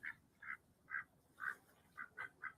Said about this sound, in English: he's feeding the ducks